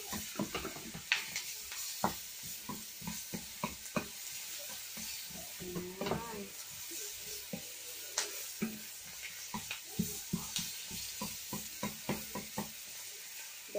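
Onion sautéing in a pan for chicken tinola, a steady close sizzle broken by frequent sharp scrapes and clicks of stirring throughout, with no talk.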